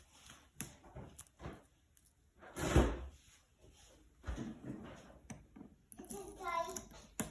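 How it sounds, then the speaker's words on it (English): A household door is opened with a sharp, close knock and thud, followed by softer handling clunks and rattles, while a voice is heard in the background. "Be very careful opening that door, buddy."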